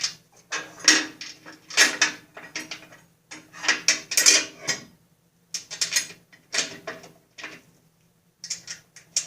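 Socket ratchet wrench loosens rusty bolts on a riding mower deck, giving repeated bursts of fast metallic clicking, close and clear, separated by short pauses.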